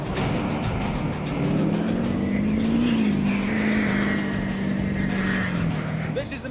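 An off-road vehicle powers across desert terrain, a loud, close engine drone rising and falling in pitch as it climbs and crests, with constant broadband rush from the wheels and wind.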